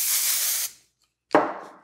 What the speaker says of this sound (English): I'm gonna take some hairspray and kind of spray this section down